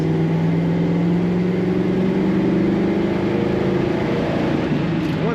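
A 1967 Chevrolet Camaro convertible's engine runs steadily close by, a continuous low rumble holding at idle with no talking.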